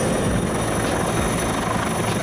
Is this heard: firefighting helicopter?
yes